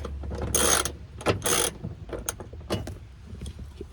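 A seatbelt bolt being unscrewed with a ratchet inside a Honda Civic, giving short bursts of clicking and metallic ratcheting that come in a few quick strokes, heard up close with no talking.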